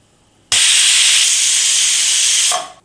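Sesame oil poured into a hot vada pan bursts into a sudden loud hiss that holds steady for about two seconds, then tails off quickly.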